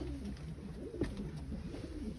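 Tumbler pigeons coo softly nearby, several low, warbling calls overlapping over a faint background hum.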